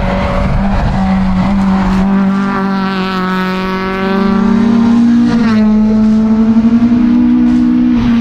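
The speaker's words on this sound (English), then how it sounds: "This car is my QRC ARC gravel car, so it shouldn't be on the bitumen" A Toyota Corolla gravel rally car driven hard on bitumen during a tarmac rally stage, its engine revving loud and close with a rising, sustained pitch and a shift partway through, no voices.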